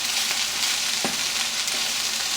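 Onions and jalapenos fry in a pan with a steady, close sizzle, and a quick stirring scrape cuts in once about halfway through.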